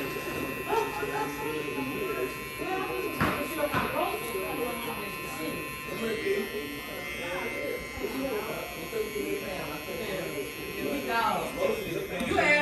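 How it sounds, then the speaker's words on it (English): A cordless electric hair trimmer runs steadily with a close, continuous buzzing whir, while someone talks over it throughout. "this is my number two trimmer of the year"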